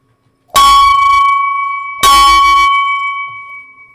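A loud, clear bell struck twice about a second and a half apart, each strike ringing with a bright sustained tone that slowly fades.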